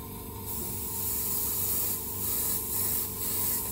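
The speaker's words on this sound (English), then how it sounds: "allow for a test spray to see how it is." A spray gun test spray of model paint: a continuous hissing spray starts after a moment and holds steady for a few seconds, close and fairly loud, with slight pulsing.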